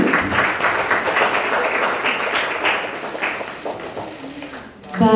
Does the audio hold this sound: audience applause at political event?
yes